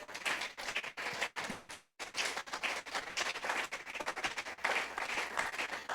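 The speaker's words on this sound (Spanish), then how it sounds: "Un aplauso para Él esta noche." A church congregation at an evening service applauds together, a dense, sustained wash of clapping that briefly thins and drops out before swelling again, fairly near and with no speech.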